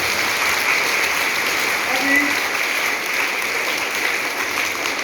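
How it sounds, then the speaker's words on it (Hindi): Sustained, loud applause from an audience at a motivational talk for students, a dense steady wash of clapping that fills the whole stretch with no talk on top. "अपने दोनों हाथों की तालियां बजाएं, जोरदार तालियां अपने लिए"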